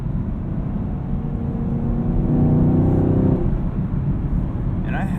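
A 2018 Chevrolet Camaro 2SS with a six-speed manual gearbox accelerates hard at night. The engine note is a loud, deep, rising rumble heard from inside the cabin, with the pitch climbing and then easing, and a voice is partly masked beneath it.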